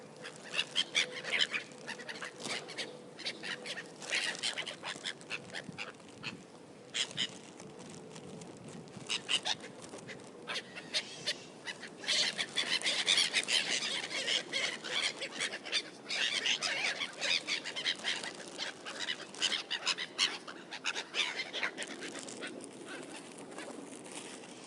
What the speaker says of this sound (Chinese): 海鸥吃东西特别吵。